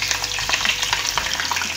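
Cauliflower florets sizzle steadily in hot oil, a dense continuous crackle with scattered pops, close and fairly loud, for soup.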